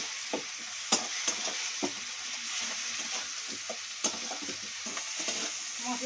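Salted spice mix for an egg and potato curry stir-fried in a pan, a steady close sizzle broken by irregular scraping knocks of the spoon, with no talking.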